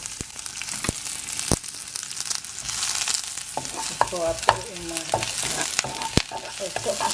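Chopped onion and garlic frying in coconut oil in a pan, a steady sizzle with sharp scraping stirs and clicks of a utensil, close and fairly loud, with no talking.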